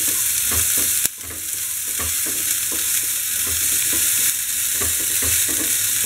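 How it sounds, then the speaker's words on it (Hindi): Ginger, green chili and sweet corn fry in a pan with a steady close sizzle, while a utensil stirs and scrapes through them in repeated rhythmic strokes, with one sharper knock near the start. "इसको थोड़ा सा भूनेंगे हम"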